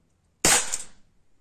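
A single sharp crack from an SAS P 210 gas blowback airsoft pistol firing, close and loud, with a brief decaying tail and no voices.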